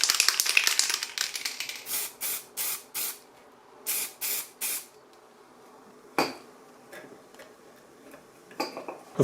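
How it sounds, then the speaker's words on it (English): Bursts of lacquer aerosol spray coating small handmade wooden dice, six- and eight-sided, in a series of short hisses with pauses, plus a few faint knocks and clicks in between. "put the lacquer on it from all sides basically"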